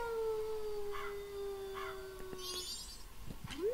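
A dog howling in Zelda Majora's Mask: a long, sliding, wavering howl, fairly faint and somewhat distant, with a few brief higher yelps and chirps near the end.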